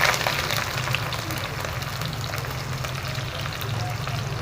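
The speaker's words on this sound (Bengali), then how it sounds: "এই পেঁয়াজটাকে প্রথমে লাল করে ভেজে নেব" Onions frying in hot oil at the start of an egg biryani, a steady, dense sizzle that stays loud and even throughout without pause.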